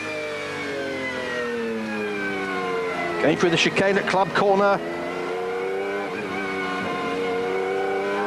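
Loud on-board engine drone from a Lotus Esprit 300 LM GT race car at Silverstone on a wet track, a steady high harmonic whine with a sharp burst of shifting and revving midway, under continuous commentary.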